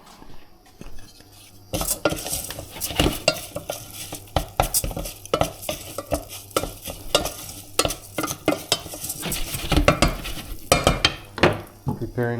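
Rice sizzles and fries in a hot pan as a wooden spoon stirs it, with irregular scraping knocks and clatter against the pan over a steady frying hiss, close by and without speech.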